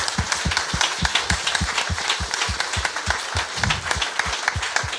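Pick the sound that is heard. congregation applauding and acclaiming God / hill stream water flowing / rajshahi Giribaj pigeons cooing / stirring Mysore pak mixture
congregation applauding and acclaiming God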